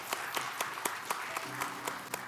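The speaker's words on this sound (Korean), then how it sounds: "하나님께 영광의 박수를 올려드리겠습니다." A church congregation at a Sunday service claps together in an even, rhythmic beat, quiet and somewhat distant, with a faint murmur of voices underneath.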